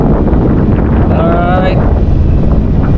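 Strong wind roars and buffets the microphone while parasailing high above the sea off Boracay, a loud constant rush with a brief voice-like whoop partway through.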